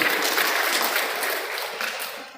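A crowd applauds at a district crafts council installation ceremony in Ciputat, with dense, steady clapping filling the room and slowly tapering off toward the end.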